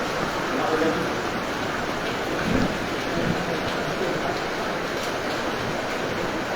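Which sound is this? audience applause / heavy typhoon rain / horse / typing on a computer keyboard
heavy typhoon rain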